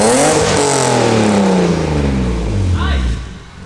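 A BMW E36 with an M50 2.5-liter engine and ISR exhaust, twin pipes merging into a single dual-muffled outlet, fires up for the first time and revs loudly up and down nearby, then settles toward idle.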